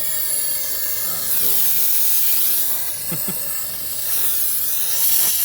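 A torch hisses steadily and loudly up close while making smoke during a Sea Ray 370 Sundancer boat restoration, a continuous rushing hiss with brief faint clatters partway through.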